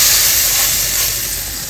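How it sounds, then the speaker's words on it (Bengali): Chicken pieces hitting a hot grill pan coated in mustard oil, producing a loud, close, continuous hissing sizzle that eases slightly over its short span. "আর আমি এখন এই যে চিকেনগুলো একটা একটা করে দিয়ে দিব"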